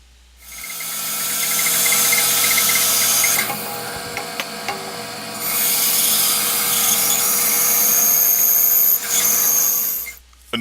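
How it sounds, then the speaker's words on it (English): A bandsaw finishes a cut through a block of maple from a fallen tree, giving a loud, continuous rasping whine that dips briefly midway and then resumes before stopping. "I took it over to the bandsaw to make the remaining cut through the block."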